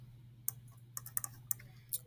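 A computer mouse clicks in a few sharp, separate taps while on-screen edges are dragged to resize a button in a Canvas course editor, alone over a low steady hum.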